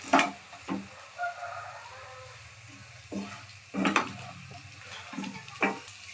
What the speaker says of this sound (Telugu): ఇదిగోండి 4 రెబ్బలు కరివేపాకు వేసుకుందాం